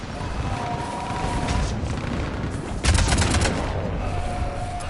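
Mass Effect 3 fire support: bursts of gunfire and explosive booms over a steady battle din, with a loud, dense barrage of cracks and a heavy blast near the middle before the background rumble settles again.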